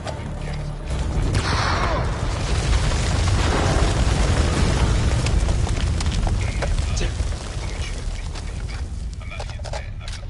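A grenade explosion in the video game House of Ashes, a loud, sustained rumbling boom that fills the clip, with game dialogue and voices talking over it.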